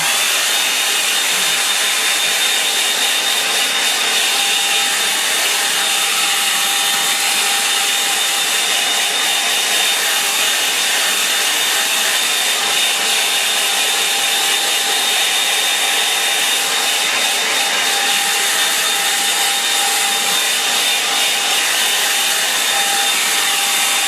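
Hair dryer blowing continuously on a wooden piece coated in linseed oil finish with a bit of alkyd resin, a steady loud whooshing whine with a thin high tone, unbroken and alone for the whole stretch.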